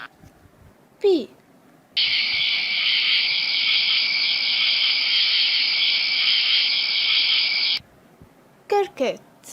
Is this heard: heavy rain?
no